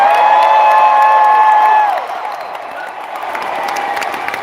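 Crowd of fans at a live Disney D23 panel event cheering and applauding, loud and dense at first with whoops, then easing to a steadier, softer wash of clapping and crowd noise.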